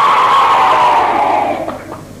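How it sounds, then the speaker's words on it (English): Loud audience cheering and applause for a special guest on stage, a dense roar of clapping and shouts that swells at first and then fades away. "keep that applause going for our special guest"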